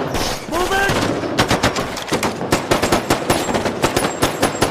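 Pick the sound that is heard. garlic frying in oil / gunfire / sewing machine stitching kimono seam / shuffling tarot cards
gunfire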